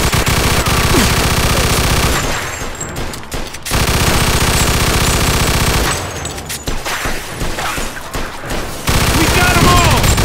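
Dense automatic gunfire rattles in the Mafia 2 video game, with rapid sustained bursts broken by two short lulls. Voices shout over the shooting.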